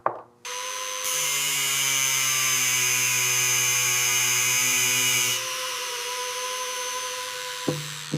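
A power tool cuts during the restoration of a burned yacht, starting with a short burst and then holding a loud, steady high-pitched whine for about four seconds before dropping back to a lower hum and stopping.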